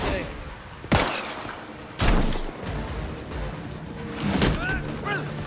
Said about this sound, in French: Je tire!